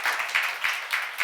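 Audience clapping at a church seminar, heard as a steady run of evenly spaced, moderately loud claps over just over a second.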